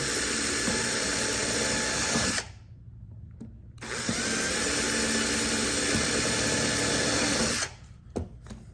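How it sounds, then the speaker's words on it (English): A power drill with a small bit whirs steadily for a couple of seconds, drilling through a car headlight housing, pauses briefly, then runs again in a long continuous burst before stopping. "I'm going to go ahead and right where those factory staples were, drill through."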